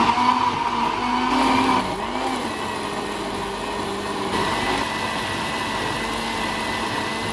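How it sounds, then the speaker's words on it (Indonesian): A kitchen blender grinds shallots, garlic, chilies and oil into a spice paste, a steady high motor whir that dips slightly in pitch partway through, loud and close, with no talking. "Lalu masukkan minyak dan kita blender halus dulu."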